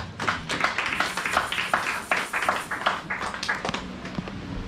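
A church congregation applauds, a steady patter of many hands clapping at moderate distance that continues for several seconds without letting up.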